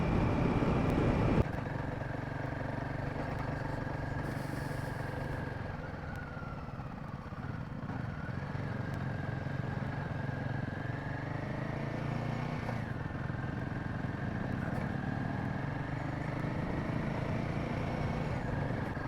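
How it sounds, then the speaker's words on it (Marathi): A motorcycle engine drones steadily while riding in the evening around Talegaon near Pune, a continuous low exhaust hum with a faint tonal whine and no clear revving or gear changes. "जो साऊंड येत आहे जो इंजिनचा एक्झॉस्ट प्युअर असा"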